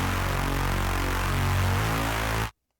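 A Spire synth patch in FL Studio plays unprocessed before EQ: a dense, buzzy sustained tone with shifting low notes, loud and steady, cutting off abruptly near the end.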